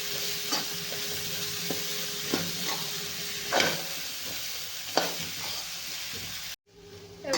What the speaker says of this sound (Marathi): ह्या तेलामध्ये भाज्या मी परतून घेतलेल्या आहेत